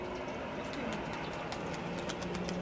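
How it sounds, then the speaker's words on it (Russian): An old dove coos softly at a middle distance, repeated low calls rising over steady background noise, with faint chirps of other birds and some talk nearby. "это старая голубка"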